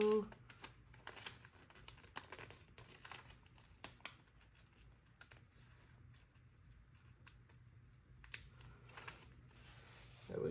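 Scissors snip through a paper Hobonichi Cousin planner page in quiet, close crisp cuts and rustles, with soft paper handling between them.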